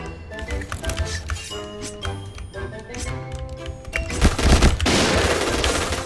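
Rapid bursts of automatic gunfire in the online shooter Point Blank, dense and continuous with overlapping shots and game effects, loud and close throughout.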